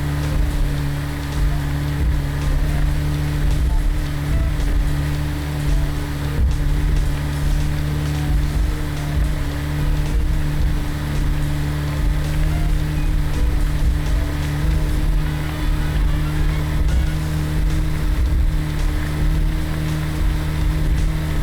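A Lada car fitted with a Gearbox Pro speeding down a straight desert road in a Roblox game, a steady loud engine drone with strong low hum and constant rushing noise, unbroken throughout.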